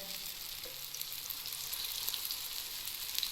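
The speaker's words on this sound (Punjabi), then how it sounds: "ਇਸੇ ਤਰ੍ਹਾਂ ਮੈਂ ਦੂਸਰਾ ਬੈਚ ਵੀ ਟਿੱਕੀਆਂ ਦਾ ਫਰਾਈ ਕਰ ਲਵਾਂਗੀ" Aloo tikki potato patties frying in hot oil, a steady, fine crackling sizzle with small pops throughout, close and fairly quiet, with no voices.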